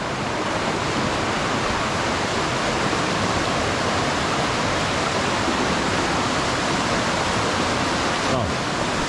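A steep mountain river, sloping some 30 to 35 degrees, rushes loudly and continuously, a dense roaring wash of water close by that fills everything without pause.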